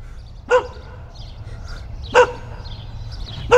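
Dog barking nearby in three single, sharp barks spaced about one and a half seconds apart over a quiet outdoor background.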